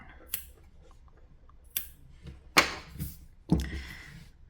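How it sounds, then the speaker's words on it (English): Scissors snip through crochet yarn while a small bag is finished: three or four sharp, close, isolated snips with brief crisp edges, spaced about a second apart in a quiet room. "And cut the yarn."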